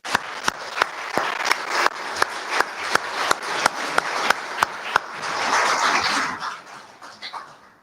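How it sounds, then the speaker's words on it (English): Audience applause welcoming Peter McRae, OBE, the new chair, at the UCEM Built Environment Apprenticeship Awards 2025, with steady clapping from a sizeable crowd that swells toward the end and then fades out. "please can you give a round of applause and welcome our new chair"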